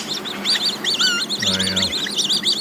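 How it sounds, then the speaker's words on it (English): Birds call in a park, with rapid repeated chirps and tweets, a ducklike quack in the middle, and a lively layered chorus running throughout. "probably hear the birds in the background."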